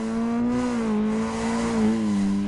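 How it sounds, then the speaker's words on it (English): Motorbike engine and exhaust from the Road Rage video game, a steady droning hum with a slowly wavering pitch, held loud and close for the whole stretch with no talk over it. "a nice ninja sounding exhaust system with the engine and sounds like a treat."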